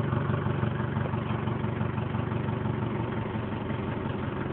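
An FSO Polonez car engine idles steadily and loudly up close, a continuous low rumble with no talk over it.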